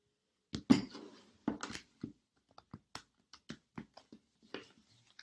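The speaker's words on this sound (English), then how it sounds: "So again, shuffle the cards." Tarot cards being shuffled by hand nearby, a run of soft papery riffles and slaps followed by a series of quieter separate taps, in a quiet room.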